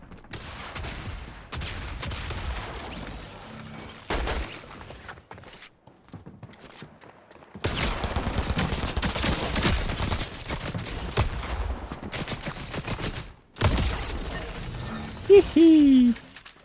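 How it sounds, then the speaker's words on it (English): Gunfire in the video game Fortnite comes as scattered bursts and volleys of shots at moderate volume, mixed with game effects and footsteps, separated by short quiet gaps. "I see shooting over there, but they were shooting over."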